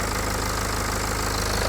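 A vehicle engine sits at idle speed, giving a steady, continuous low hum with a fine regular pulse, close and even in level, with no talking.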